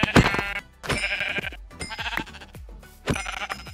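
Sheep in a video game bleat loudly and close up, four separate wavering calls spaced about a second apart, with no talking.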